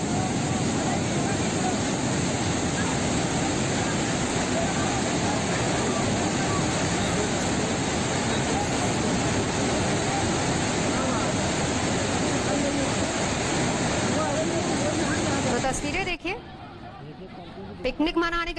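River water flows in a loud, steady rushing roar, constant and close, before it cuts off abruptly near the end.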